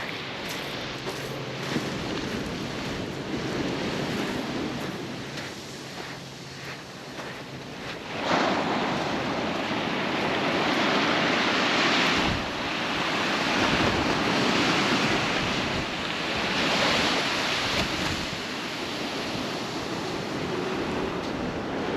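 Ocean surf at a beach in Kill Devil Hills on the Outer Banks, calm waves washing and breaking in slow surges under steady wind noise, a continuous moderate roar with no one speaking.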